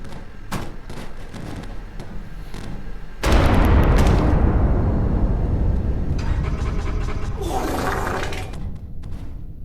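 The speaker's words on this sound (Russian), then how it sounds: "сегодня мы будем взрывать джип" A jeep is blown up with explosives: a few sharp pops lead into one sudden loud blast, and a long rumbling roar and crackle follow, fairly close.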